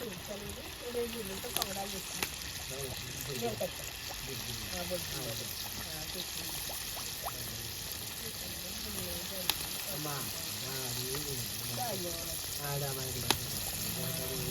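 Pongadalu batter dropped bit by bit into hot oil, giving a constant, dense sizzling and frying throughout, with occasional sharp clicks and a faint voice speaking beneath.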